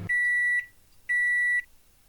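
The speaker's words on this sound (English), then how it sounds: "It even makes beeping sounds and like a cooking sound" Two long electronic beeps from a microwave in Minecraft's MrCrayfish's Furniture Mod, each about half a second, separated by a short gap, clean and steady like a game appliance chiming.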